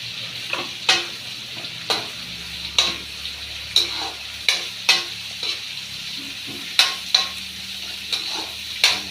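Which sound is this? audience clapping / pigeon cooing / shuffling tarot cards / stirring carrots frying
stirring carrots frying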